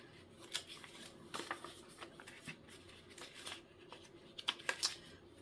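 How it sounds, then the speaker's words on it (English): Paper cash is shuffled and stuffed into sinking fund envelopes: soft, faint crinkles and rustles come in irregular bursts, with a few sharper paper snaps near the end. "So now we can shuffle all of this money in here."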